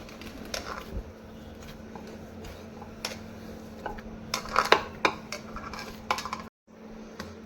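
Spoon clinking and scraping against a bowl while coffee cookie dough is mixed by hand, a quiet series of irregular metallic taps and scrapes with a steady low hum behind and a brief drop to silence near the end.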